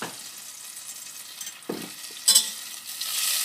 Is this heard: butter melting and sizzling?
yes